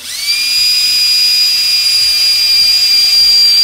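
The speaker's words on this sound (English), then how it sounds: "let's make a 1/4 inch hole in the drain pipe" A power drill bores a 1/4 inch hole through one side of a plastic drain pipe during a reverse osmosis water filter installation, a loud steady high-pitched whine running close and unbroken from start to finish with no talk.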